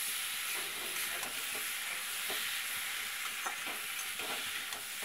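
Fish curry with salt and turmeric stirred in a pan, with a low steady sizzle under repeated soft scraping strokes of a spoon, fairly quiet and even.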